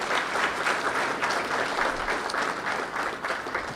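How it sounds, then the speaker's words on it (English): A crowd at a school spelling bee claps warmly in a hall, dense, even applause at moderate volume holding steady throughout. "Would you give these folks a nice round of applause as well?"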